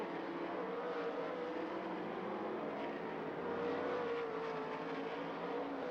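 Sprint cars racing on the dirt oval at Lernerville Speedway in the closing laps of an A-main, a steady, continuous engine roar heard from a distance with a slight swell partway through.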